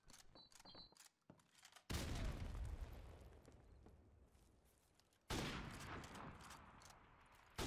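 Gunfire in the video game Call of Duty 4 Remastered: a few quick early shots, then two heavy loud blasts that ring out and decay over several seconds, close and quiet overall, with no talking.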